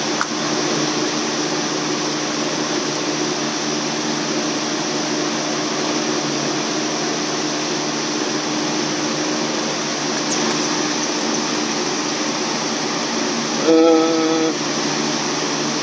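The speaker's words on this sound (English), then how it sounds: "It's a faster leak now." Air leaks from the EVAP system of a 2014 Toyota Corolla with a loud, steady hiss. It runs close and unbroken throughout, with a brief faint tonal blip near the end.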